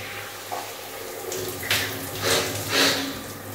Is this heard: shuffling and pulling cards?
no